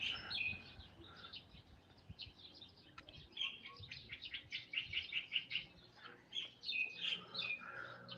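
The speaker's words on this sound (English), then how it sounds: "Can you hear the bird noises?" Birds chirp and tweet in short bursts during a live stream in Sukhothai, Thailand, moderately distant over quiet background noise, with the calls growing busier toward the end.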